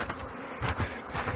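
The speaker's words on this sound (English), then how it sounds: "I got bees crawling right down my neck" Stingless bees buzz close up in a dense, wavering drone with pulses of louder hum, no voices.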